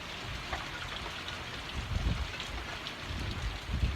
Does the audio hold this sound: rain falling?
yes